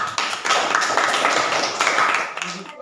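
Classroom applause in an Indonesian school lesson: a group of students claps briskly in a dense patter of hand claps for a few seconds, close and fairly loud, fading out at the end.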